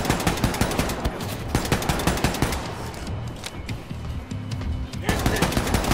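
Rapid automatic gunfire in the shooter game Wolfenstein 2: The New Colossus, dense bursts of loud shots rattling almost continuously, pausing briefly before resuming.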